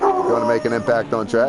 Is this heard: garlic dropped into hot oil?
no